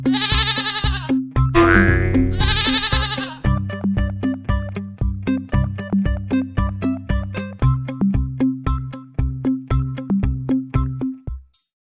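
Cartoonish goat bleats and springy boing effects over a bouncy, rhythmic music cue, loud and continuous, with a repeated plucked beat that carries on to the end.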